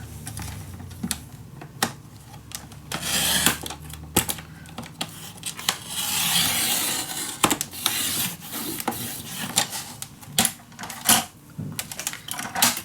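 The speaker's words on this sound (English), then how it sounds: "now I am gonna make that cut from mark till mark" Paper being cut from mark to mark while making a desk storage box: close scraping and slicing strokes in irregular bursts, with louder rasping passes midway and sharp clicks between them, no voice.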